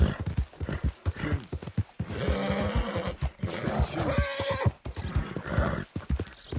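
A horse in the video game Red Dead Redemption 2 snorts and whinnies over a busy run of clopping hooves, close and loud with uneven bursts throughout.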